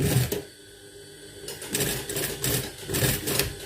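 Domestic sewing machine stitching a shirt pocket, running in short rattling bursts separated by brief pauses, close and fairly quiet.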